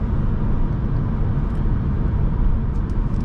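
Steady low road rumble and engine drone fill the cabin of a 2008 Hyundai Sonata GLS V6 on the move. The sound is even, muffled and continuous, with no talking.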